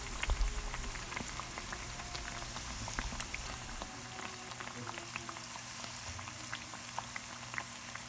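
Raw banana vadas bubble and crackle in hot oil, a dense close frying sizzle scattered with sharp little pops, louder at the start and settling to a steady fizz.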